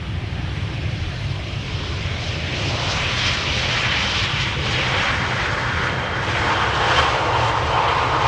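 An Embraer 175 jet arriving at Amsterdam Schiphol makes a loud, steady engine roar with rushing broadband noise, close and sustained throughout, with no talking.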